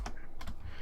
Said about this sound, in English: So let's just type